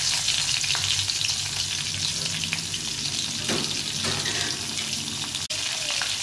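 Nigella seeds and green chillies frying in hot oil give a steady, dense sizzle and crackle that runs throughout, close and fairly loud, with a few brief stirring scrapes and no talking.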